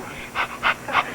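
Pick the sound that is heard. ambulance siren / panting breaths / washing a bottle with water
panting breaths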